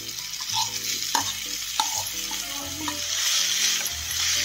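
Minced chicken kheema frying and being stirred in a pan with spices, a steady close sizzle broken by scraping stirs and a few sharp knocks of the spoon against the pan.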